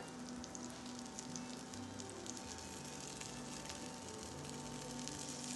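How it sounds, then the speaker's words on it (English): Food with cheese bubbling in a pan, a soft, steady sizzle with small pops that keeps up evenly and quietly throughout, with no talking. "It's just gonna slowly bubble away."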